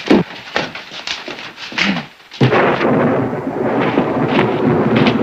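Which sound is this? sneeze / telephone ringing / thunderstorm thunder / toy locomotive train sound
thunderstorm thunder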